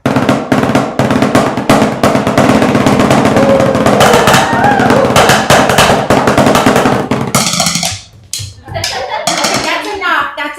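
Rapid marching-band drumline snare drumming played with loud, dense stick strokes for about seven seconds, then breaking off into a quieter stretch with scattered sounds and voices.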